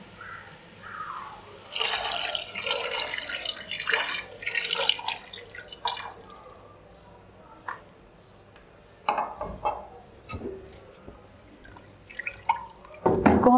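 Two cups of water pour into a pot of chicken biryani with spices in bursts, splashing and trickling, with clinks of cookware and quiet gaps between pours.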